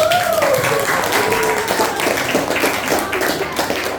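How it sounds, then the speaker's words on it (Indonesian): A group claps together for a few seconds, a steady patter of hands with voices mixed in. "tepuk tangan dong"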